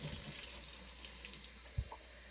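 Cold water runs steadily from a kitchen tap into a glass jar, a soft, even rush heard alone, with a small knock near the end.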